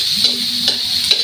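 Vegetables for Filipino pakbet Tagalog frying in a little oil while being stirred: a steady close sizzle with a few soft scraping stirs at a regular pace.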